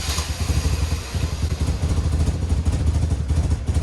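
A motorcycle engine cranking on its electric starter and struggling to catch, a fast rhythmic low churning that runs continuously and loud up close, with no talking.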